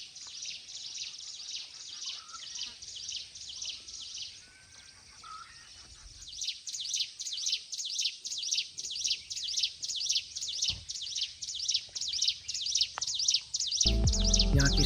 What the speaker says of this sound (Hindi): यहाँ की शांति और पक्षियों की मधुर आवाज़ मन को एक अलग ही सुकून देती है